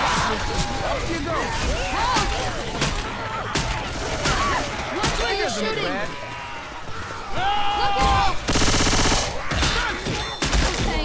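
Rapid gunfire in the zombie shooter Left 4 Dead 2, with repeated shots and automatic bursts under frantic game noise and a loud crashing burst near the end, while players talk over the action.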